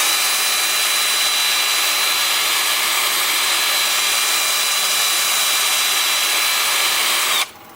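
A wood lathe spins at about 350 rpm while a piece of plum wood is sanded, giving a steady, close, even whirring hiss that holds for several seconds before stopping abruptly.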